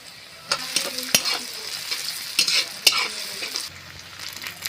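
Onions fry in a pan of oil with whole garam masala and bay leaves for goat brain bhuna. A steady close sizzle runs throughout, broken by sharp scrapes and taps of stirring, with no voices.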